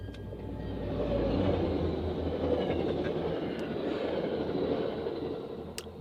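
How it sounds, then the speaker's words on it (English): A heavy rumble swells and holds steady for several seconds as a commuter train rolls past nearby, a low continuous roar with faint metallic squeaks. "We got a commuter train coming right now."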